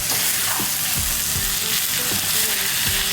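Onion and capsicum frying in a pan for stuffed capsicum, a loud, dense, continuous sizzle with occasional soft stirring scrapes underneath.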